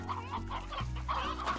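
Chickens clucking in the video game Slime Rancher, a near, steady run of repeated low clucks and murmurs from a chicken coop, heard alone without talk.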